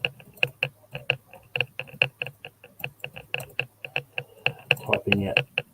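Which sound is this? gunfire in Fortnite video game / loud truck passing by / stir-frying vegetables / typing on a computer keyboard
typing on a computer keyboard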